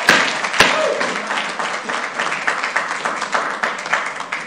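Applause at a city council meeting, a steady crowd of hands clapping across the whole clip, fairly close and even in level, with no talk over it.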